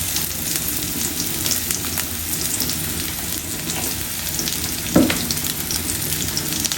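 Onions sizzle and fry steadily in hot oil in a pan, a loud, continuous crackle with one brief clunk near the end and no talking.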